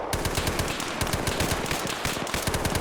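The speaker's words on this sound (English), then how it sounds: "So they're shooting through the tin shack" Rapid automatic gunfire in a video game, rounds ripping through a tin shack in a steady, loud, close stream of sharp cracks with metallic rattle, no talk over it.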